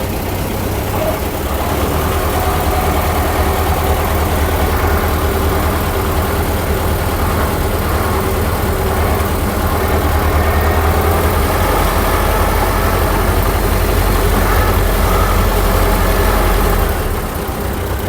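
A T-40 tractor engine runs steadily in low gear, a loud, continuous low rumble with an even idle-like drone throughout and no talk.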